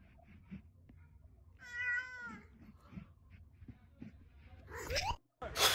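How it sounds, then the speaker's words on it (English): A cat gives one clear, drawn-out meow partway through, followed by a few louder scuffling noises near the end. "Peek at the cat."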